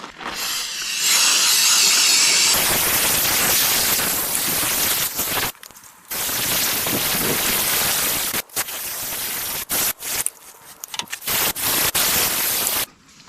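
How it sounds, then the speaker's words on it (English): Carb cleaner sprays in loud hissing bursts onto the carburetor of an SBC 350 engine, with a sustained blast, short gaps, and several choppy spurts toward the end. "Let's try some carb cleaning, okay?"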